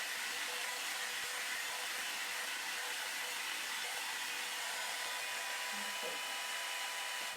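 A hair dryer blow-drying the top section of hair during an at-home salon-style blowout, a loud steady whooshing roar that runs unbroken throughout.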